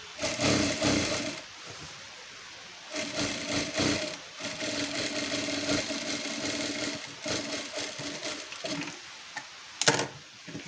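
Sewing machine stitching a salwar bottom canvas, running in close bursts of steady rapid whirring with brief pauses between runs and a clack near the end.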